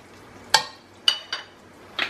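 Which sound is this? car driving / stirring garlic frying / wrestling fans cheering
stirring garlic frying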